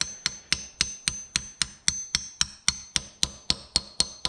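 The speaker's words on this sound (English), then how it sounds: "Get our hammer. Don't be a brute, just give it a light tap." A hammer lightly tapping a valve stem seal into place on a 1ZJ engine, about sixteen evenly spaced, crisp metallic taps in a steady rhythm, close and clear with no talking.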